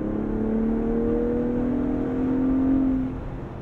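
A Ford Bronco Raptor's engine revs under way in an off-road drive, a steady droning hum that swells and rises in pitch, then eases back near the end, heard alone and fairly close.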